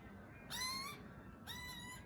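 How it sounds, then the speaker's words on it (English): Two loud harmonic calls from a young butcherbird, each about half a second long with a short gap between, sounding clear and close over faint background noise. "The baby butcher bird."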